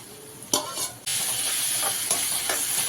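Tomatoes and green chillies tipped into onions frying in a pan for Kerala egg curry, with a sudden burst of sizzling and steamy hiss that settles into a steady, close crackle.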